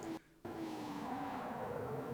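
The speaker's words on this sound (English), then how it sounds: "Then here you can hear a bit of a car sound." An AI-generated car heard at low volume: a steady engine drone with a faint rising whine, interrupted near the start by a brief dip, with no voices.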